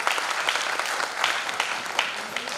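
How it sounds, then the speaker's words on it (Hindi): Audience clapping at a school Founder's Day event in Dehradun, dense and steady applause with a few sharper claps, no one speaking. "मगर आपकी तालियों में भी तो थोड़ा जोर होना चाहिए।"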